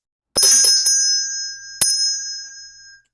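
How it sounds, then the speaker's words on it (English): Doorbell rings twice as a radio drama sound effect: a bright metallic ring with a quick rattling strike, then a second single ding that rings out and fades, with no voices. "Now go ahead, ring the bell."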